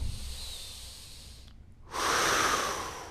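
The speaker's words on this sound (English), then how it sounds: "Breathe in, breathe out." Breath-work exercise breathing: a faint, drawn-out inhale followed, after a short pause, by a louder, airy, hissing exhale, close up.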